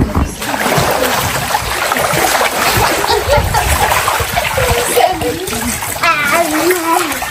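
Water splashes and churns continuously at close range, a dense, busy spatter throughout, with children and adults talking and calling over it.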